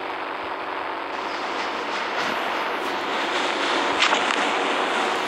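Metro train in the video game Indian Bike Driving 3D, a steady broadband rumble that swells a little as the train slows to a stop at a metro station, with no voices.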